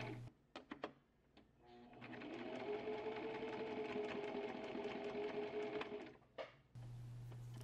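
A sewing machine stitches fabric for a Chanel-inspired suit, starting with a few short bursts, then running steadily for about four seconds before stopping. A low background hum follows.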